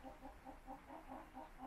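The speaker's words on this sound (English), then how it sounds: "There's a chicken in there." A hen clucks softly in a backyard nesting box, a faint, steady series of short rhythmic clucks repeating about every fifth of a second.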